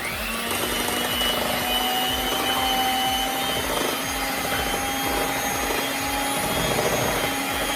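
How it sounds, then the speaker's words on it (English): A hand mixer beats coconut sheet cake batter, giving a loud, steady electric whir that holds one pitch, close and alone, without letting up. "I'm using my hand mixer today. Mix it up thoroughly."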